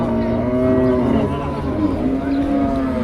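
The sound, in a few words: native cow mooing at a cattle market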